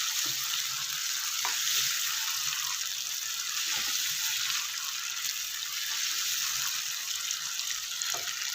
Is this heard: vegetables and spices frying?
yes